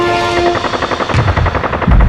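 Rapid automatic gunfire bursts loudly in a dubbed action film, a dense rattling volley of shots with heavier booming impacts near the end, close and alone.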